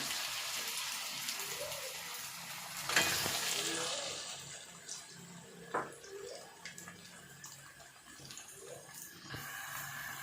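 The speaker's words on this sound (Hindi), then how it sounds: "तो अरबी हमारी फ्राई हो रही है।" Taro root (arbi) pieces frying in hot oil in a home kitchen, a steady soft sizzle and bubbling throughout with a sharper clatter near the start and occasional light stirring knocks.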